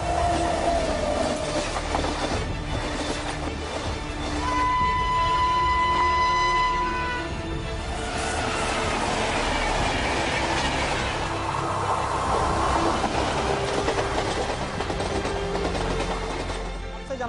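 A passenger train at a railway station in India rumbles past with steady clickety-clack and a brief high whistle or squeal, loud and close, filling the whole stretch.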